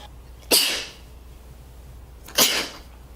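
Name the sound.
sneeze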